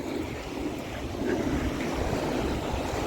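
High ocean waves break at a beach, a steady roar of surf mixed with gusty wind buffeting the microphone, continuous and fairly loud with no voices.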